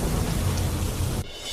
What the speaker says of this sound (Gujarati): માતર, નડિયાદ, મહેમદાબાદ સહિતના વિસ્તારોમાં ધોધમાર વરસાદ